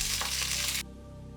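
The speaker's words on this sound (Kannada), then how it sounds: "ಈಗ ಈ ಒಗ್ಗರಣೆ ರೆಡಿ ಆಗಿದೆ." Tempering for curd rice sizzles in hot oil, a brief close crackling hiss that stops abruptly, leaving a faint low hum.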